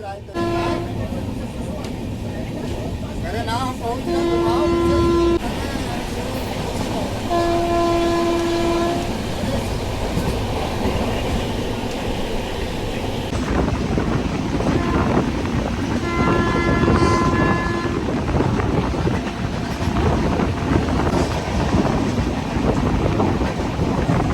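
A passenger train travelling between Lucknow and Jaunpur rolls along loudly with continuous rumbling and rattling, sounding its horn in several tonal blasts during the first half.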